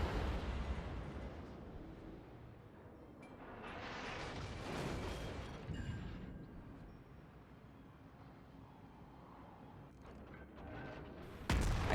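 Heavy naval gunfire and shell explosions from a Zao cruiser firing high-explosive salvos in World of Warships, a steady rumbling barrage with swelling booms and a sharp blast at the end, with no voices.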